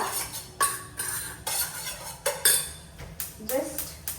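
Pepper and puffed rice powder being roasted in a pan, with a series of sharp metallic scrapes and clinks from stirring at an irregular pace, close and fairly loud, with faint talk in the background.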